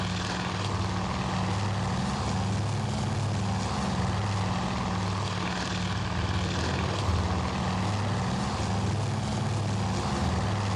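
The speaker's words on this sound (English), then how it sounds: "A plane coming in behind there." Propeller aircraft engines drone in a steady, unbroken roar during carrier warfare gameplay in the Task Force Admiral video game, a continuous low hum with no voices over it.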